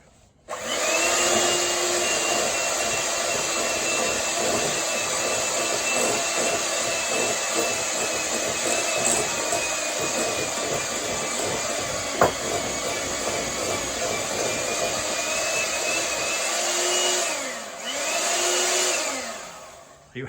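Electric mixer running steadily as it blends almond extract into a baking mixture at a church Christmas baking session, a loud continuous whir that briefly dips near the end, with no talking.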